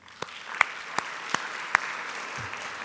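Sparse, faint clapping in a large hall at a university baccalaureate ceremony, a handful of sharp individual claps spaced about half a second apart over a low room hum.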